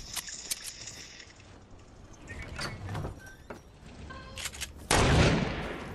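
Gunfire from the video game Fortnite: a few scattered shots, then a loud burst near the end, played fairly quietly without talk over it.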